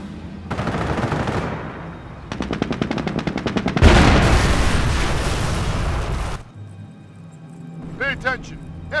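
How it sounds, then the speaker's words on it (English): Machine gun fire from Company of Heroes rattles in fast, steady bursts, close and loud, with a heavy explosion partway through and a voice speaking over the battle near the end. "Heavy enemy fire on our position."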